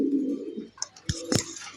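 A Rajshahi Giribaz pigeon coos softly up close, then a few faint clicks and scuffs follow in a quiet setting.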